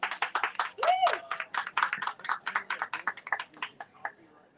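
A small audience at a book festival booth gives a brief round of light, separate handclaps that taper off, with a voice speaking over them and a rising tonal sound partway through.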